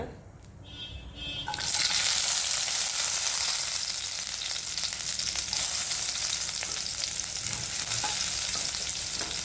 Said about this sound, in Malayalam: അപ്പോൾ നമുക്ക് ഇതൊന്ന് കടു വറുക്കാം